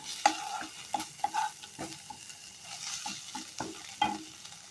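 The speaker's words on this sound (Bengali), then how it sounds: "এর মধ্যে আমি আদা রসুনের পেস্টটা অ্যাড করছি দিয়ে কিন্তু আমি ভালোভাবে দু থেকে তিন মিনিটের জন্য ভাজবো" Ginger garlic paste fries in a pan, with busy scraping and stirring strokes over a soft, continuous sizzle, close and uneven in rhythm, no voices present.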